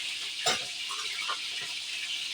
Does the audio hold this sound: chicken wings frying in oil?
yes